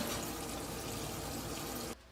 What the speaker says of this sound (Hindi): अब इसके अंदर पानी डालेंगे।